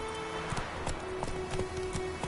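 Hooves of Roach, a horse in The Witcher 3, gallop at a fast, even rhythm, close and steady over a low ambient game backdrop.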